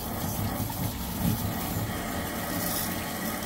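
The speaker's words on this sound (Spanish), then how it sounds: "Ya está entrando la agua al tanque." Water pours steadily into the tank of an automatic quail watering system, a constant close rushing hiss with a low mechanical hum beneath it and no voices.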